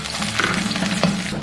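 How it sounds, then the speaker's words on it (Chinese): Pork belly renders in a little oil in a hot wok, a soft, steady sizzle with light scraping and stirring clicks, close and fairly quiet. "先下五花肉煸至油脂。"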